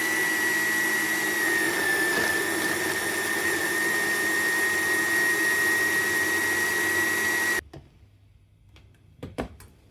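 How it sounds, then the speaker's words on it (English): A blender whirs steadily for about seven seconds, pulverizing garlic cloves, walnuts, green chilies, salt and pepper into a paste, then stops abruptly, leaving a few faint knocks and clatters. "Give it a thorough blend"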